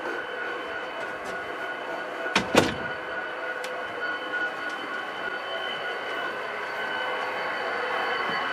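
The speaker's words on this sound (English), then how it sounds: "I'll even go ahead and close the door." A door shuts with a sharp double knock, standing out briefly against a quiet, steady background hum.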